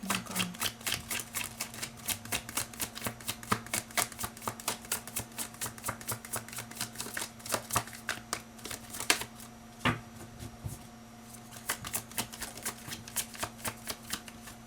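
Tarot cards being shuffled in a steady run of quick, crisp riffling flutters, close and fairly quiet, continuing throughout with no talking.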